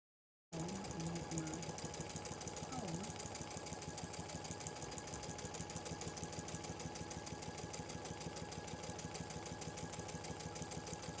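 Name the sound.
Baby Lock Chorus sewing machine stitching a one-step buttonhole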